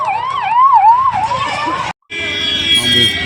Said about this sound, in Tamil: ஆம்புலன்ஸ் தொடர்